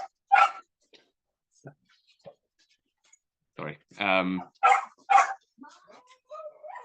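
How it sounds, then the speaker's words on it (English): A dog barks a few times in short, sharp bursts, with a whimpering yip, close and intermittent, while a person speaks briefly between barks. "I've got a barking dog."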